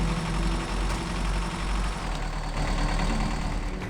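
Truck engine idling in the off-road driving game SnowRunner, a continuous dense low rumble holding steady and loud throughout, no talk.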